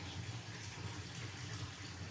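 Water runs steadily from a tap into a sink to soak a paste-covered wallpaper brush, a continuous soft rushing that holds at an even level throughout with no talk.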